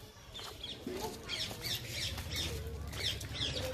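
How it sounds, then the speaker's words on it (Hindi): Parrots squawk repeatedly with shrill, raspy calls at a temple, several birds overlapping at a moderate distance over a faint background hum. "यहाँ पर तोता मैना कबूतर बहुत सारा रहता है।"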